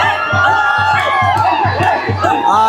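Crowd cheering and shouting at the Raybadevi kathi yatra festival, a loud, dense wall of voices close by with a steady pulsing beat underneath throughout.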